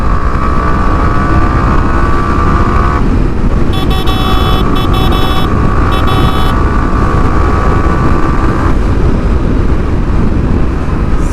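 A Yamaha R15 V3 sports motorcycle, 2021 Indonesian edition, is ridden with its engine droning loud and steady beneath heavy wind rush. The engine tone shifts pitch partway through as it revs.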